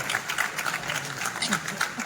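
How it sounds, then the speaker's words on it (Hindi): Crowd applause at a stage play performance honoring the director, a dense steady wash of many hands clapping with a voice faintly audible underneath. "एक बार जोरदार तालियां इस नाटक के निर्देशक विनोद राय भैया के लिए"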